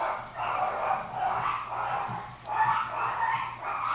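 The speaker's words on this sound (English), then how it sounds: "yeah, my dogs are really loud." Several dogs bark loudly indoors in repeated, overlapping bursts with a few higher yips, fairly close and continuous across the whole stretch.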